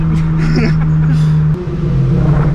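A Golf 7 GTI Performance tuned to Stage 3 pulls hard, its engine a loud, steady drone from inside the cabin with a brief shift partway through, while a passenger talks over it.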